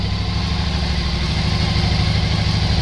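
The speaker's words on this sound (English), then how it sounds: "So now with the engine at 1500 RPM" A Suzuki V-Strom 1000 DL1000 motorcycle engine, warmed up and running at 1500 RPM during a throttle body sync, idles with a loud, steady low throb recorded close up, with no voices.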